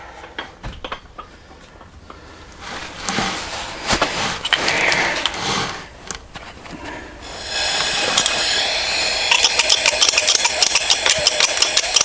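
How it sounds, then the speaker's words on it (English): A torch lit during repair work on a Honda Civic in a cramped workshop, a steady loud roaring hiss that swells and then settles into a bright, sustained rushing flame. "we're going to turn on the torch"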